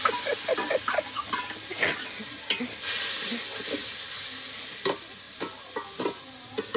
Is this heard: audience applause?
no